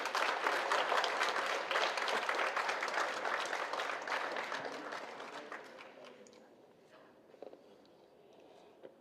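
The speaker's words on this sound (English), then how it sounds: "we need to have a big round of applause for him." Conference audience at a university valedictory session breaks into a big round of applause, dense and sustained for several seconds before tapering off into a quieter room with a few stray claps.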